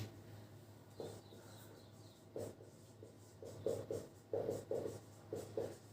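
Chalk or marker writes on a board during a lecture, a string of faint scratchy strokes in uneven short bursts over a low steady hum in a quiet room.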